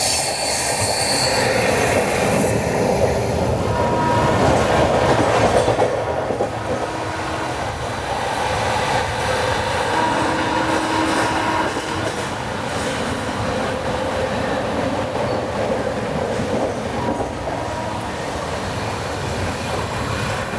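An express train runs on rails in Mumbai alongside another train, with a loud continuous rumble, rhythmic clickety-clack of wheels over joints and occasional wheel squeal, close and steady throughout.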